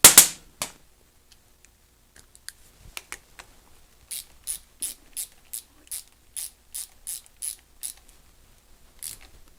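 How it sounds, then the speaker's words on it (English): A hand ratchet tightening the nut on a Bosch starter motor during reassembly: a run of crisp, close clicks in a steady rhythm, preceded by a few scattered metallic taps, with no talk. "Tighten the nut down."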